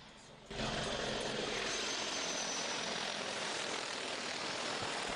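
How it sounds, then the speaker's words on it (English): Numerous military helicopters fly overhead, a loud sustained rotor and engine roar that starts abruptly about half a second in and holds steady throughout. "Just look at the sheer amount of helicopters, right?"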